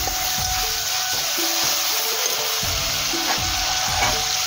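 Tomatoes fry in a pan over a village cooking fire, a continuous bright sizzle up close with repeated low knocks and scrapes from stirring, no voices over it.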